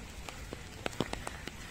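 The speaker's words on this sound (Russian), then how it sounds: "ветер, дождь льет без конца" Rain falling outdoors, individual drops tapping irregularly and distinctly on a surface against a soft background hiss.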